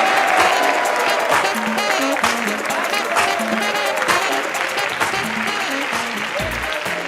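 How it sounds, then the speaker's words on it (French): A comedy-show audience applauds loudly and continuously as a performer is introduced, dense clapping filling the whole stretch with background music and brief voices underneath. "Sous vos applaudissements, mesdames et messieurs, Juste Parfait"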